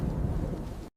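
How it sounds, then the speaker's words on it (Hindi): Heavy rain pours down in a steady, dense roar with a low rumble beneath it, loud and continuous throughout before cutting off abruptly near the end. "बारिश इतनी तेज थी मानो आसमान फट पड़ा हो।"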